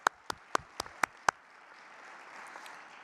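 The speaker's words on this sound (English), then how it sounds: "A round of applause to all of you guys." About six sharp, separate hand claps in quick succession at an International Franchise Association award ceremony, fairly close and then dying away into quiet room tone.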